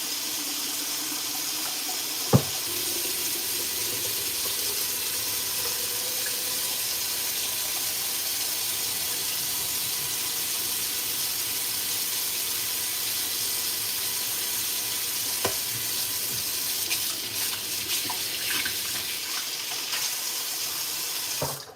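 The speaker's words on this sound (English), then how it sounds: "Sorry you heard the dishwater running." Water runs steadily from a kitchen sink tap into dishwater, a constant close hiss lasting throughout, with a couple of sharp clanks from dishes or the sink along the way.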